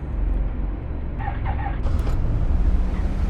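A Ford Transit van's engine in the City Car Driving game, drifting after a crash, gives a steady low rumbling drone with faint higher whines over it.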